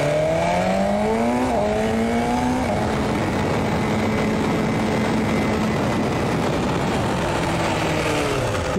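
A BMW S1000RR motorcycle accelerates hard for a brake test, its engine note climbing in pitch through the first few seconds, then settling into a loud, steady drone close by.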